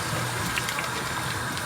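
A pot of fisherman soup with dried mint leaf being stirred, a brief wet swishing and sloshing of liquid, close and steady, with no talking.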